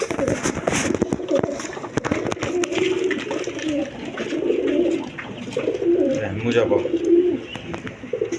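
Pigeons, a pair of big-sized birds at a sale, coo in low, throaty, overlapping rolls throughout, with clicks and rustling nearby and someone talking over them.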